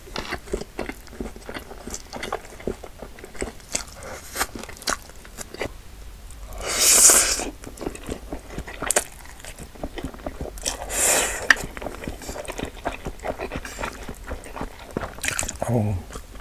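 Close-up wet biting and chewing of Bburinkle-seasoned Korean sweet fried chicken drumsticks, cheese balls and a hotdog, with repeated squishy, slightly crunchy chews and occasional louder bites, heard up close with little else around.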